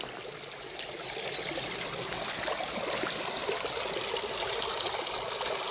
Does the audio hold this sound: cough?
no